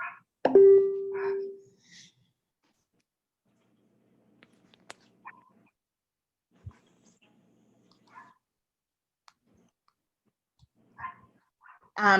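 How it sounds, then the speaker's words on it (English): One distant dog bark near the start, followed by long near-silence with faint scattered clicks and small noises. "Can y'all hear my dog barking?"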